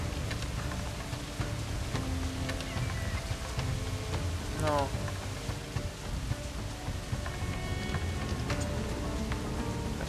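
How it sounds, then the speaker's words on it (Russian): Steady rain in the pirate-era game Assassin's Creed 4 Black Flag, a continuous broadband hiss throughout with scattered game effects and a brief voice over it. "Офигенный дождь, мне еще нравится, классно выглядит все."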